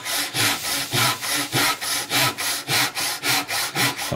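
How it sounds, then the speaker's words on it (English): Steady back-and-forth strokes of a hand saw biting through wood, about two strokes per second, close and loud with a rasping, rhythmic texture. "preserving, on this case, the left side of the V, sawing out the right side"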